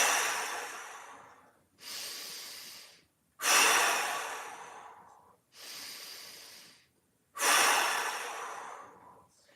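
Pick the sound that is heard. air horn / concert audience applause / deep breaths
deep breaths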